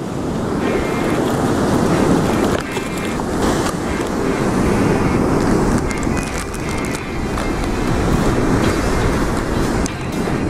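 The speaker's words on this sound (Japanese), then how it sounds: "まあまあ波あるね。" Ocean waves breaking on a rocky shore in Australia during a kingfish jigging session: a continuous, loud, roaring wash with wind buffeting the microphone and a brief dip in the surge partway through.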